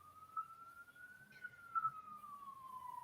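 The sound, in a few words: emergency vehicle sirens in the city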